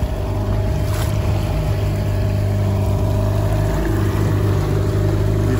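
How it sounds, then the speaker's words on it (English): Outboard motor on a dinghy cruising across glassy, calm tropical water, a steady loud drone with hull and water rush throughout, no talking. "we came out of the pass, and we've been riding the dinghy all the way"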